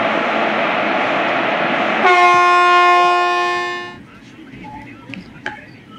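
A passing train on an Indian railway line between Vijayawada and Pileru rumbles loudly and steadily, then a long sustained horn blast sounds close by before the rumble fades, with brief talk afterward.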